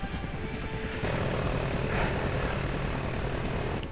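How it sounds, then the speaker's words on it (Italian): Helicopter in Call of Duty Ghosts multiplayer, a steady rotor and engine drone that swells slightly after the first second and holds at moderate distance without voices. "Ah, l'elicottero"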